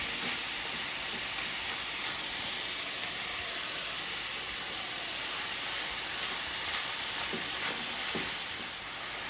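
Shredded cabbage cooking down in a pan of chicken fried rice gives a steady, even sizzling hiss throughout, with a few faint clicks from the pan.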